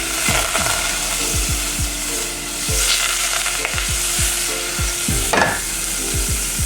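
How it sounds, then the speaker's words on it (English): Half a stick of butter sizzles and fries in a pan, a steady crackling hiss with repeated scraping and clinking of a utensil stirring against the pan, no talking. "I'm going to add in just half a stick of butter."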